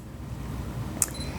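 A single quick shutter click from a DSLR camera taking a picture at f/3.5, brief and faint against steady low room noise, with no talking.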